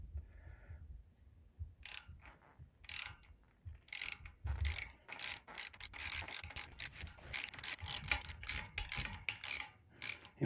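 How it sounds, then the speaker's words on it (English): A hand ratchet clicks in quick, uneven bursts while the saddle gibs on a metal lathe are adjusted, with close metallic ticks and some rubbing in a quiet workshop. "Ratchet."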